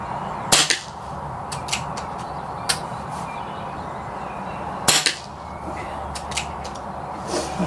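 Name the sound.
air rifle shots firing H&N Baracuda 8 pellets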